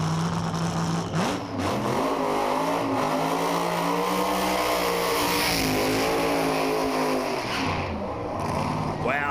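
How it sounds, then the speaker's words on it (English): John Connolly's Nova LED Top Alcohol funny car at a drag strip roars loud and close, its engine pitch swelling and sliding up and down without a break while a commentator talks over it. "the man that has now wrapped up his second Top Alcohol Championship, John Connolly, about to come forward in the Nova LED funny car"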